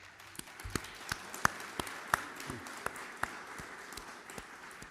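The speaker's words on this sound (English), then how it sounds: "that was applause from the room in London as well" Sparse applause from a room in London at a nursing launch event, scattered individual claps popping faintly over a low background, distant and thin rather than a full ovation.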